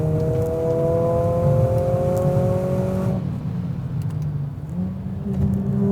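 A steady exhaust drone from a 2020 Mercedes CLA45 AMG, played through the cabin speakers, hums inside the cabin, holding a smooth tone before dropping and rising again as the engine note shifts.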